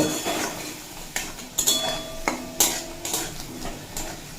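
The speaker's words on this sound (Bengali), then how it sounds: "আদা রসুনের কাঁচা গন্ধটা চলে যাওয়া পর্যন্ত ভেজে নিয়েছি" Ginger and garlic fry in a pan for a lentil and raw banana dish, with a soft sizzle under repeated scraping and clinking of a metal spoon stirring against the pan.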